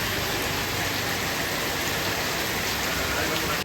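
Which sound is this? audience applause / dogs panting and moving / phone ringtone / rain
rain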